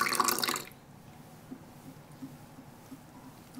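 A little water splashes into an egg and cornstarch breading mix for cheesy siomai, a brief pour at the start followed by faint quiet stirring ticks.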